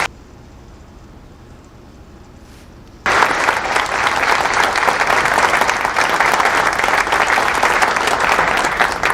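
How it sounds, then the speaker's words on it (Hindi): After a few seconds of quiet room tone, an audience bursts into loud, vigorous clapping that holds strong and steady to the end, dense and close with a light crowd murmur underneath. "ताली बजाइए जोर से आप लोग।"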